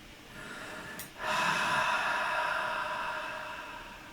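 A voice imitates heavy breathing in someone's ear: a short sharp snort, then a long, close, airy exhale that slowly fades.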